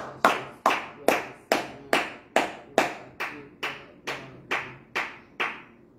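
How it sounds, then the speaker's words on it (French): At a morning prayer service, a church congregation claps in unison to acclaim the Lord: about fourteen sharp, evenly spaced claps in a steady rhythm, each with a short echoing decay, with no talk. "Acclamons le Seigneur."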